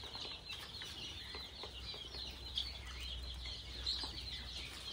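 Chickens on a low-cost farm clucking softly and continuously, a faint, distant flock murmur over steady background hum, with no talking.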